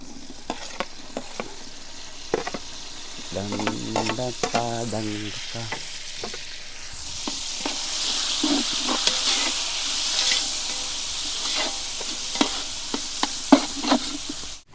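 Crushed garlic, ginger and chopped tomato fry in a pan, giving a continuous bright sizzle and hiss with scattered stirring clicks, a brief musical tone rising over it early on.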